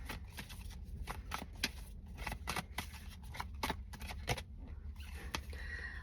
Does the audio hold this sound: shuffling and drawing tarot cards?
yes